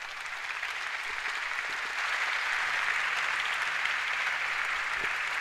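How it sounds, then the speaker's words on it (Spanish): An audience at a university lecture on Plato's Republic breaks into sustained applause for the theatre and sound crew, a dense, even clapping that swells slightly and continues throughout with no speech. "le pido un aplauso para ellos"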